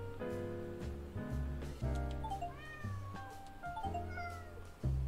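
Cats meow repeatedly in the video game Hidden Cats in New York, rising and falling cries over a steady backing of game music, clear and close throughout.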